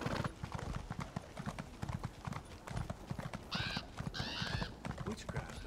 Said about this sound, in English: Let's jump on the horse.